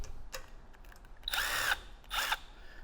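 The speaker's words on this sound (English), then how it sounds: "I'm using a magnetic socket on my 1/4-inch Milwaukee" A Milwaukee 1/4-inch power tool fitted with a magnetic socket drives a bolt in two short, close whirring bursts separated by a brief pause, with light handling clicks before them.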